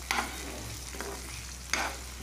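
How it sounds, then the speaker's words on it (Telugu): Mustard seeds, onion, tomato and green chilli fry in oil in a pan, making a steady close sizzle. Three distinct stirring scrapes sound through it. "పాన్ లో ఆయిల్ వేస్తు ఆయిల్ తో పాటు ఆవాలు ఆనియన్ టమాటో పచ్చిమిర్చి అన్ని వేసి వేయిస్తున్నాను"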